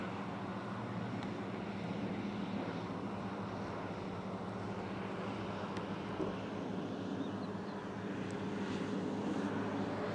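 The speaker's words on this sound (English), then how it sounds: "Another airplane over there, of the general aviation variety." A general aviation light airplane passes somewhere overhead at a model glider contest field, giving a faint, steady, distant engine drone mixed with wind and low outdoor background noise for the whole stretch.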